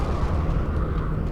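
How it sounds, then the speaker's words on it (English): A plasma explosion goes off in the space game Star Trek Online, a dense, loud burst that rumbles continuously for the whole moment. "I hit the plasma explosion thing, and now I'm slowed down and crawling"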